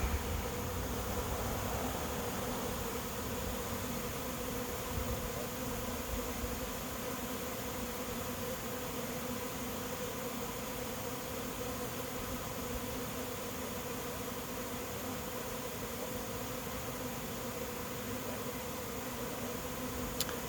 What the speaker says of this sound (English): But a lot of bees are still arriving.